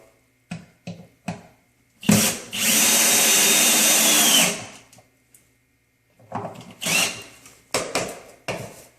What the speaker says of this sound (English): I'm going to continue to screw the plywood to the frame